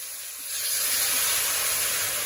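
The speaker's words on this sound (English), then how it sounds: "let's add 100 milliliters of boiling water." Boiling water is poured into a hot pan of sticking aubergine, potato and pea curry, giving a loud, steady steamy hiss and sizzle that swells after half a second and holds.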